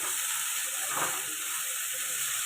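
Okra sizzles while frying in a covered pan for a dry masala bhindi, a steady close hiss with a brief swell midway and no talking.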